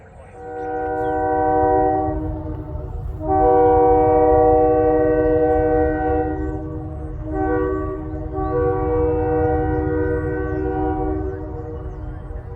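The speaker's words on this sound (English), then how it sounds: "The calmness of the town is being interrupted by the sounds of a distant train horn." A distant train horn sounds in long, repeated blasts over the low, steady rumble of a moving New Brunswick Southern Railway train in early winter.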